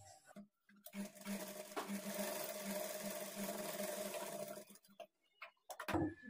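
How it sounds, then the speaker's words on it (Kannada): Sewing machine stitching blouse fabric, running in one steady, quiet whir for about four seconds, bracketed by brief pauses and small handling clicks, with no voices. "ಮೊದಲಿಗೆ ಮೇನ್ ಡಾಟ್ ಅನ್ನ ಸ್ಟಿಚ್ ಮಾಡ್ಕೊಳ್ಳಿ."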